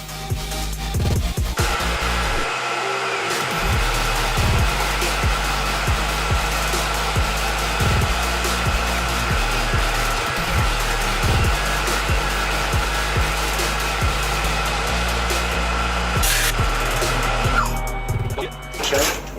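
A Tormach 1100 CNC mill cuts chamfers on a knife blade held in a fixture clamp. It gives a loud, continuous machining whir with a spindle hum and repeated short cutting bursts, briefly dipping near the start and trailing off at the end.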